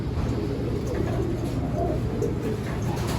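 Racing pigeons coo steadily at their loft, a low continuous murmur of several birds close by over faint background hiss, with no voices.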